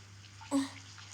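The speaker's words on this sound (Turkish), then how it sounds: "Şimdi duş alalım." A brief burst of running shower water from the Toca World mobile game, lasting about a quarter second over a low steady hum.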